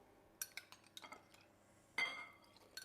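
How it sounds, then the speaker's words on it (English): A spoon clinks and scrapes in a bowl as milk is mixed into margarine, quiet intermittent knocks followed by a brief louder scrape near the end, close and alone without talk. "I'm going to put the milk into the margarine. Give that a little mix up."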